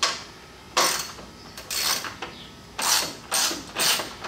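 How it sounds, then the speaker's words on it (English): A ratchet with a 10 mm socket backs out the top bolts on a 2018+ Roush F-150 grille, heard up close as several short bursts of rapid clicking separated by brief pauses. "you're going to need is a 10 millimeter socket. All right, and that's to remove these top bolts"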